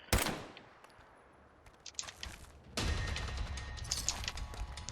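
Gunfire in a zombie-apocalypse mod of Fallout 4: a sharp shot opens, followed by a quieter stretch with scattered impacts, then a sustained loud barrage of rapid shots and crashes.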